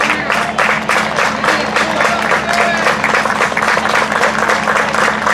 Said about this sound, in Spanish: Fuerte el aplauso para Memé.